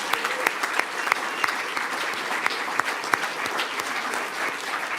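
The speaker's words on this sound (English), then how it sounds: "I think that in itself deserves a good round of applause," Audience applause at a school board of education meeting, steady moderate clapping from a modest crowd with a few sharper individual claps standing out, no talking.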